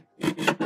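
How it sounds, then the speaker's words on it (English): A Westcott Easy Cut guillotine paper trimmer blade is drawn through material in three close, rasping strokes, each a short scraping rub with brief gaps between them. "I'm just going to try to trim it with the other side of the blade and see if that works"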